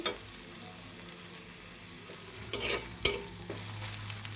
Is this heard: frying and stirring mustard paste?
yes